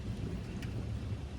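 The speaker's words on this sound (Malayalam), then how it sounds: "നല്ല രസമുണ്ട് കേട്ടോ ഇടിമിന്നൽ ഇങ്ങനെ കാണാനായിട്ട്" Low rumbling thunder rolls through a thunderstorm in Nepal, fairly faint and distant, mixed with the soft hiss of falling rain over a brief stretch.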